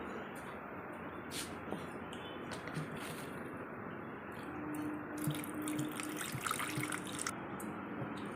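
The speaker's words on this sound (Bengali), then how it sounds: "তেঁতুলটা এখন একটু জল দিয়ে গুলে দেবো" Water trickling and dripping as it is poured over ripe tamarind to dissolve it for a tamarind dal, a soft, faint wet patter that runs steadily with a few louder splashes near the end and no talking.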